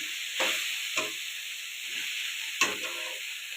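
Spices and chopped tomato frying in a pan under a steady sizzle, with three or four brief scraping stirs at uneven intervals, close and clear.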